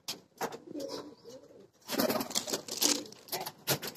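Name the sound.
pigeons cooing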